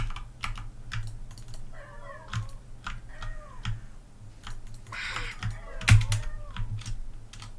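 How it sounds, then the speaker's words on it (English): Cats meow repeatedly in a video game, the short mews mixed with steady keyboard clicking and clacking that runs throughout. "And we got some cats here."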